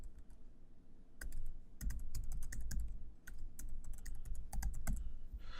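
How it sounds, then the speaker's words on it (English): An email address being typed on a computer keyboard, a fast, steady run of close, sharp key clicks over a constant low room hum, with no speech. "Type in our email address."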